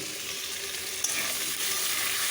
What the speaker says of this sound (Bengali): আর এদিকে বসিয়েছি আলু ভাজা, আলু আর দিয়ে হচ্ছে কেটে ভাজছি